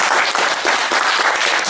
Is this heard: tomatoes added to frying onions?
no